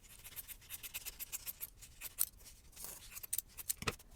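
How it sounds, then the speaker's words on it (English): Scissors trim the excess fabric below the pin line of a no-sew tiered heart Valentine ornament, a close run of quick, crisp snips with a few louder cuts near the end and no talk. "So now we can go ahead and trim off all this excess below the pin line."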